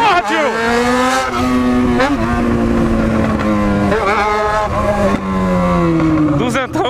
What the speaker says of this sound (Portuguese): Tá cortando o giro, apertando a embreagem.